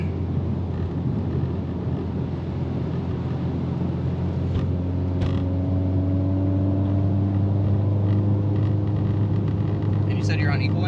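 A Subaru car engine with equal-length exhaust drones in a steady low rumble, heard from inside while a person talks over it throughout.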